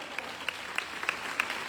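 Light applause from an audience, soft steady clapping with a few sharper claps standing out, fairly distant and brief.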